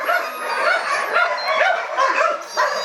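Dogs whimper and yip during mating, a run of high, wavering whines and short yelps close by, coming in repeated bursts.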